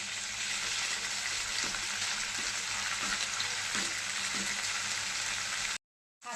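Ginger paste sizzling steadily in hot oil in a pan, stirred now and then for a Bengali banana-flower chop recipe, a continuous close hiss with a few faint scrapes, ending in a brief cut to silence.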